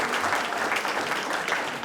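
Warm, continuous applause from an audience at a regional oyster-shucking competition awards ceremony, a close, dense patter of clapping hands lasting briefly without pause.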